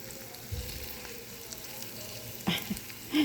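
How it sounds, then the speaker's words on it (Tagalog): Eggs with onions frying for breakfast, a low steady sizzle with a couple of brief louder bumps near the end, likely from the pan or spatula. "nagprito ako ng aking breakfast. Itlog na may sibuyas."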